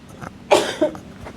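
Two sharp, close coughs in quick succession, the first louder, with quiet breathing around them.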